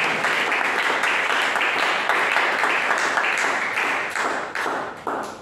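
A church congregation claps and cheers together during an intercession service, dense sustained applause with a few louder claps standing out, filling the room before tapering slightly toward the end.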